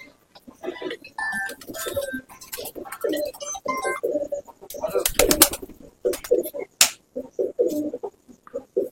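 Pigeons and their chicks coo at close range in soft repeated calls, joined by sharp flapping bursts and clattering, while someone talks over much of it.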